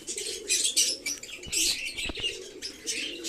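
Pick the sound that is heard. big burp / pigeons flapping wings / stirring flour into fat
pigeons flapping wings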